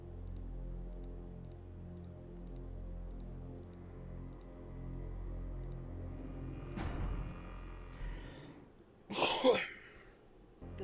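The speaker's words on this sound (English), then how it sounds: "It was a cough" A single sharp cough bursts out loud and close near the end, following a quieter rustle, over a steady low background hum.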